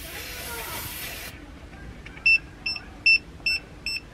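A Tire Minder tire pressure monitor on an RV: a steady hiss of air escaping from an unscrewed tire valve stops, then the monitor gives a series of short, sharp electronic beeps.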